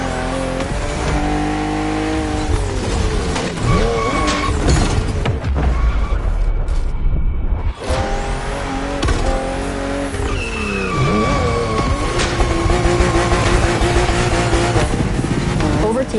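BMW M2 and M4 race cars from The Crew Motorfest roar along a narrow, twisting road, with engines revving up and down through gear changes and tire squeal on the bends, loud and continuous, while a voice talks over it.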